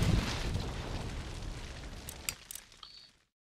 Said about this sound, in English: Now it looks like they are shooting, so it's going to be exchange